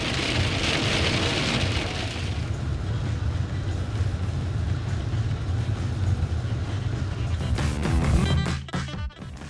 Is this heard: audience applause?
no